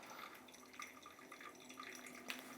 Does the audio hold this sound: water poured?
yes